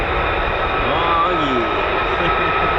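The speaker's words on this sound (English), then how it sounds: "Ladies and gents, teddy bears, F-35s coming at us." F-35 fighter jets at RAF Lakenheath fly toward the listener with a loud, steady roar of jet engine noise filling the whole moment, and a faint rising whine sweeps through as they approach.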